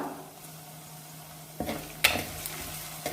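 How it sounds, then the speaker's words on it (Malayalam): Curry leaves drop into a hot frying pan while making a Kottayam-style Kerala fish curry, giving a faint steady sizzle with a few louder stirring clatters near the end, no talk. "ഇതിലേക്കൊരു 2 തണ്ട് കറിവേപ്പില ചേർത്ത് കൊടുക്കുക."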